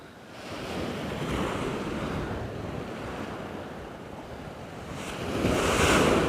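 Choppy sea waves surge and wash along the Dawlish seafront in Devon, a steady close roar of surf mixed with wind buffeting the microphone, swelling louder near the end.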